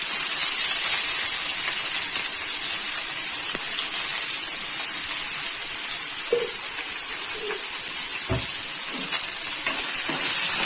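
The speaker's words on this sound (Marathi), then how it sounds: "आपलं तेल इथे छान गरम झालेलं आहे. त्याच्यामध्ये मी टाकणार आहे हा उभा चिरलेला कांदा." Sliced onion fries in hot oil in a kadai for a Malvani chicken rassa, giving a steady, loud sizzle with no one talking. A few faint bird-like calls and light clicks sit in the background.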